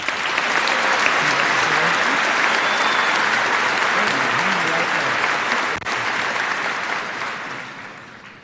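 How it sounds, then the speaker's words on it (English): A large commencement audience in a high school ceremony gives a sustained, dense round of applause for the salutatorian, loud and steady throughout before gradually thinning near the end. "I would ask you to join me in honoring her with a round of applause."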